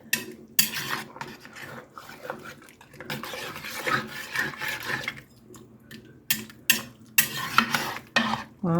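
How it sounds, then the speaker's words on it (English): A spoon stirs beef short rib stew with stewed tomatoes in a pot, giving irregular scraping and clinking strokes against the metal with a faint sizzle beneath, close and moderately loud, with no talking. "So let's just get this stirred around."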